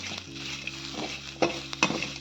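Crushed garlic with its skin roasts in a pan for idli podi, with quiet sizzling under a few sharp scrapes and clinks of a stirring spoon against the pan.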